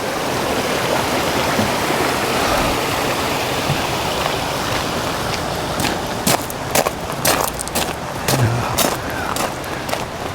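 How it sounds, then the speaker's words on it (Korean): A stream flows beside a forest walking trail leading up to Bridal Veil Falls near Vancouver, a steady close rushing babble, joined in the second half by sharp scuffing footsteps and clicks. "옆에 시냇물도 이렇게 흐르고 있고"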